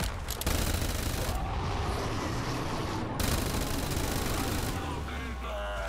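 Thunderwall weapon firing in a zombies boss-fight video game, producing several loud bursts of dense, blasting noise separated by short breaks.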